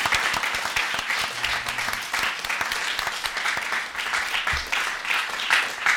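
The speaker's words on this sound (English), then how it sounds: "So join me in applauding our speakers today." Audience applauding the speakers at the close of a public talk on artificial intelligence and public health, a steady, moderately loud round of clapping from a seated crowd lasting the whole stretch.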